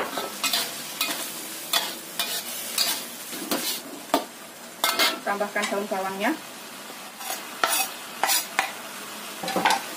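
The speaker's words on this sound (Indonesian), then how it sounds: "Tumis sampai matang." A filling is stir-fried in a pan with a spatula scraping and tapping against the metal over a soft sizzle, while someone talks throughout.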